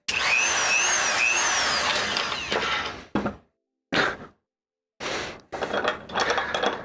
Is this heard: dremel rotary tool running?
yes